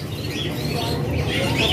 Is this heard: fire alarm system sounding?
no